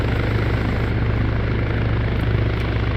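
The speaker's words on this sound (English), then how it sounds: "Just wait for like 20 seconds and then the helicopter will be off the map" A helicopter in the military game Arma 3 fills the scene with a loud, constant rotor thrum and engine roar, steady and close throughout with no voices.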